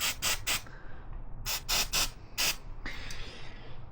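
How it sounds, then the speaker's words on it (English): Bursts of aerosol spray hiss onto the nuts of a Kawasaki ZX-12R motorcycle exhaust, several short blasts in a row followed by longer ones, close and loud. "spray that right in those nuts"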